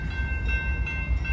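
Deep rumble of a freight train on Sulphur Avenue going by close, heavy low wheel noise with a steady horn tone above, one unbroken short burst.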